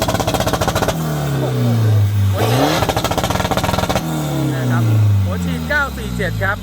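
A car engine with a stage 3 remap and 947 injectors revs hard again and again, each climb ending in a rapid stuttering bounce off a 5,000 rpm rev limiter before dropping back to idle.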